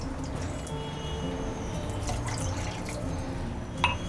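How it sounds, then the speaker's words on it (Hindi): Water is poured into a pan of sweet corn curry, a steady close trickle and splash lasting several seconds with a faint drip near the end and no voices. "अब इसमें हम 1 से 2 कप पानी डालेंगे।"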